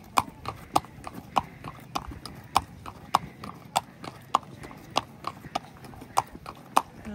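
Horse hooves clip-clopping at an even walking pace at Kanyam near Darjeeling, a string of sharp regular hoof strikes, moderately close, with faint background voices.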